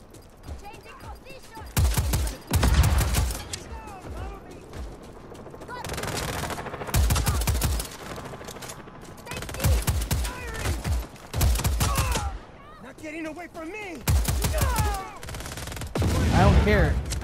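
Bursts of automatic gunfire in Just Cause 4 on PS4, loud rapid volleys repeating in clusters with brief gaps between, mixed with other game noise.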